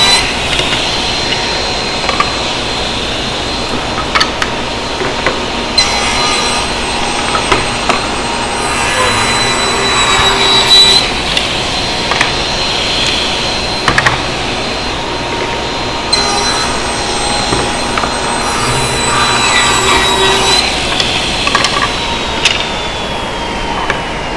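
A table saw rips glued-up wood boards into 3-inch strips against the fence, its loud steady motor whine rising into several sustained cutting passes in a row with intermittent clunks and knocks.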